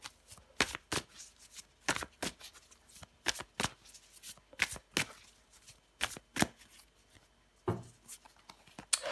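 Tarot cards shuffled by hand before a card is drawn, giving a rapid series of crisp riffling bursts with short pauses between them, close and fairly quiet, with no talking.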